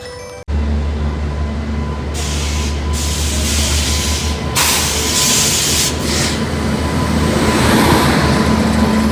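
A train rumbles steadily at a railway station, a loud continuous low roar with hissing bursts and a faint rhythmic rattle of carriages.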